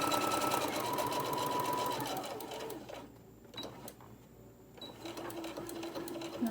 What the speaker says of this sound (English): And I'm back stitching here.